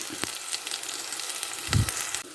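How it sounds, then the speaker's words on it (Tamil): Onions and ground fennel seeds sizzle in hot oil for a plantain stir-fry, a faint steady frying hiss with a few scraping stirs of a spoon in the pan. "சோம்பை சேர்த்துட்டு கிண்டி விட்டுக்கலாம்"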